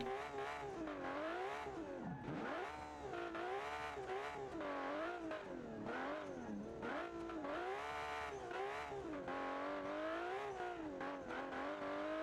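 A drift car in BeamNG.drive revs and wails continuously, engine pitch rising and falling in rapid waves as it slides, loud and close with no voices.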